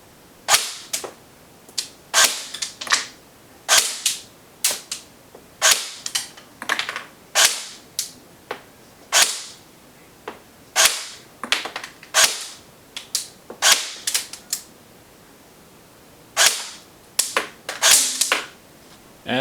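A CYMA M14 airsoft electric rifle fires single shots during an FPS chronograph test, a long series of loud, sharp cracks close by at irregular spacing, with no talking.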